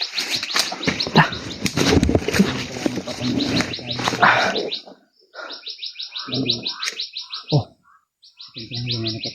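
Outdoor bird sounds with bursts of chirping and wing flutter, partly masked early on by people talking nearby, then clearer repeated chirp bursts in short rhythmic runs.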